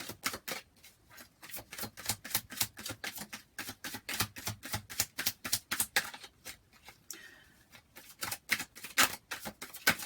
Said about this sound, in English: I'm going to pull one more card if you don't mind me.